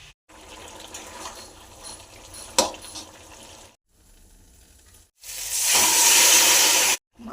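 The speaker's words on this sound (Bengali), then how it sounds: "তেলের ওপরে হলুদ দিয়ে কপিগুলো একটু ভাজি করে নেব" Sliced cabbage fries in hot oil with turmeric for a fish-head cabbage curry, giving bursts of close hissing sizzle, loudest in a long crackling surge near the end, with no talk.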